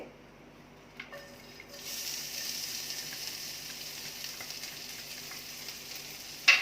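Red chillies, green chilli and ginger paste hit hot oil and break into a steady, close sizzle that holds to the end after a quiet start, with a faint clink at the close.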